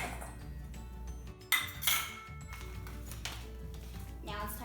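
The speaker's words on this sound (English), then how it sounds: "Time to dump that in the bowl." Contents dumped into a bowl while making homemade chocolate covered strawberries, with a clatter of utensils and dishes and a couple of louder knocks against the bowl over steady background noise.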